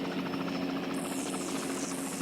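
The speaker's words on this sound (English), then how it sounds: "As the helicopters came into view" Helicopters approach as a sound effect, a loud steady rotor thrum and engine drone with a rising whine sweeping across the top, filling the whole short stretch.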